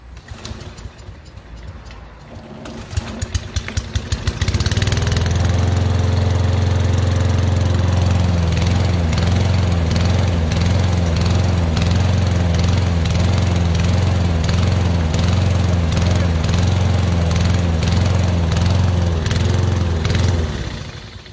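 A Toro 22-inch lawn mower engine cranks with a few quick pulls, then catches and runs loud and steady close by, with faint bird calls in the background before it starts.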